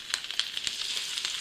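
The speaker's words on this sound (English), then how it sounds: "frying chicken is just that easy" Chicken pieces sizzle steadily in hot oil in a pan, a dense crackling hiss with frequent small pops, close and continuous with no voices.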